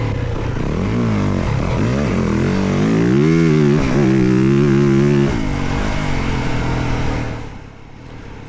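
A 2025 Yamaha YZ450FX dirt bike rides a trail at low RPM with short shifting, a loud continuous engine drone that rises and falls in pitch and fades slightly at the end.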